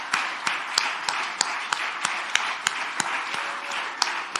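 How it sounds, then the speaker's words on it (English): An audience at a Malcolm X commemoration event applauds to bring a person onto the stage, a steady dense wash of clapping with a few louder individual claps standing out, lasting throughout. "We're gonna clap you onto the stage because you make this place beautiful."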